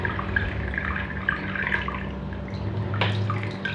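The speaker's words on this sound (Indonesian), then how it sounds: "Terlihat di sini gemericik air ya." Water trickling and dripping from the lily pipe outlet of a Xilong aquarium canister filter, a soft steady babble with small drips over a low pump hum.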